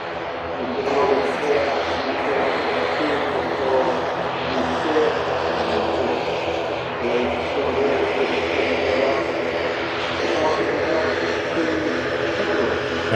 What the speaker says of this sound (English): taxiing in front of the RVP as the Hainan 330 begins its taxi